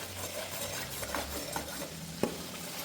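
A spoon stirs mutton masala in a pan, scraping and clinking softly against the metal over a low, steady sizzle of frying, with one sharper knock near the end.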